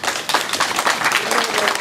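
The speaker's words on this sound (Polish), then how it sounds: "Jeszcze raz oklaski" Audience applause at an international sailing rally, steady dense clapping throughout the short stretch, fairly loud and close, with a voice speaking over it.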